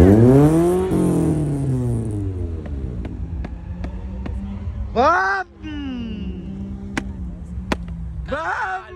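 Car with a DSG gearbox during a street drift: an engine revs and sweeps up and down in pitch with sharp popping cracks, while people shout and talk over it outdoors.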